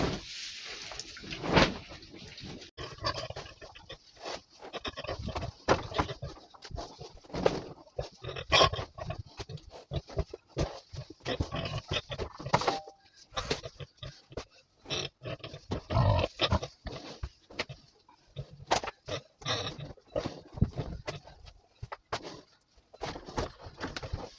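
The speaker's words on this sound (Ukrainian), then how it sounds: "Стоять ще ось такі дві свинки." Pigs on a farm, two large animals of roughly 120 to 130 kg, grunt and snuffle in a steady, busy stream of short noisy bursts, fairly close, with clattering farmyard noise mixed in and no talk.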